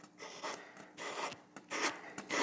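Soft rhythmic grinding rasp as a vintage dirt bike crankshaft is lapped, spun back and forth in one direction with valve grinding compound, in repeated strokes with brief gaps, close and fairly quiet.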